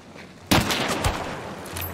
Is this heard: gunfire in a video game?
yes